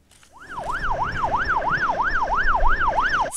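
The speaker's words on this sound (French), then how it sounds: "Sirène en marche, secours déployés." Emergency vehicle siren during a rescue exercise on Lake Geneva wails in a steady two-tone up-and-down cycle, rising in loudness as it draws nearer, with faint road rumble beneath.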